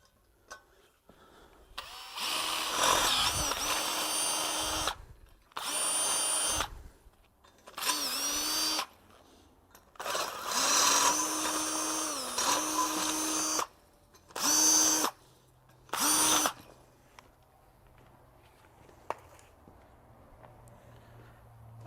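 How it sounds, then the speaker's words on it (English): Power drill boring holes through a metal plate for a forged garden hose hook, heard as several loud bursts of whining, grinding drilling of a few seconds each, separated by short pauses, with no talk. "Okay, so we've got all the holes drilled."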